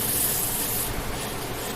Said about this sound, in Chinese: 转动处这边我就喷一些喷雾式的黄油。